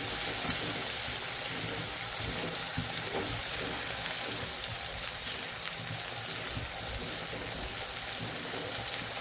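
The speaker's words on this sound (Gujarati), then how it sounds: "આદુ લસણ ને મરચાંની જે આપણે પેસ્ટ તૈયાર કરેલી, તો આદુ અને લસણની કચાશ વહી જાય ત્યાં સુધી આપણે આને સાતળવાનું છે." Ginger, garlic and chili paste sautés in hot oil in a pan, a continuous crackling sizzle with occasional stirring scrapes, close and steady with no voices.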